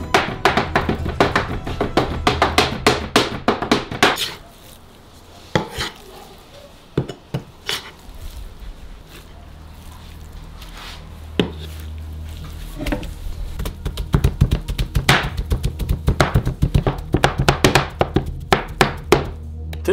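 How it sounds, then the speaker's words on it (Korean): Meat minced by hand with two knives on a board, heard as dense bursts of rapid, close knocking chops with brief pauses between runs. "칼 2개로 다진 고기로 만들어주세요."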